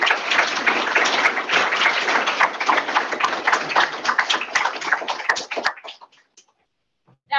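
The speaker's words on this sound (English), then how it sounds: "Can we get a round of applause?" Audience applause at a data analytics meetup: a dense, sustained round of clapping from a room of people that fills about five and a half seconds, then thins to a few scattered claps and fades out before a brief final sound.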